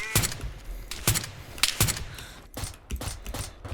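Gunfire in an online survival video game: several sharp, loud shots crack out in irregular bursts over a dense, noisy background, with no speech.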